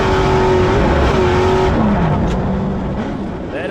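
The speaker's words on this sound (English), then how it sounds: "Matt Wood, Johnny Holtger as they fly over that triple jump." Off-road racing trucks roar loudly over a triple jump, engines whining and shifting pitch as they rev and fly past, close and continuous with no talk.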